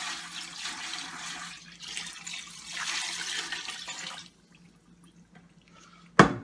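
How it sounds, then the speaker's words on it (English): Water pours steadily from a container into a pot of turkey brine, a broad rushing splash lasting about four seconds, then quiet dripping and a sharp clunk at the end. "we're going to add in the remaining bit of water to get this water level over the top of this bird"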